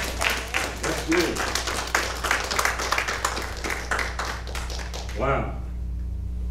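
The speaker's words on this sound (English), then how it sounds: "let's give God a hand clap of prayer" A church congregation claps together in praise, a dense run of overlapping handclaps that fades out near the end, with voices mixed in.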